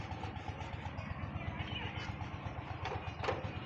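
A Holland Ford 3630 tractor's diesel engine chugs with a steady, rapid low thump throughout, close and fairly loud, with faint background sounds over it.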